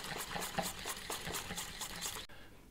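A wire whisk beats pudding mixture for a crumble cake in a bowl, a steady rapid swishing and clinking that carries on evenly up close, then stops abruptly near the end.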